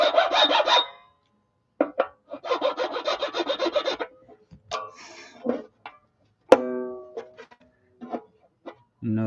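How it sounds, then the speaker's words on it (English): A 10 gauge nut file rasps back and forth in bursts, deepening string slots in the nut of an old Bruno banjolin, close up with pauses between strokes. "take my nut file and make these slots a little bit deeper"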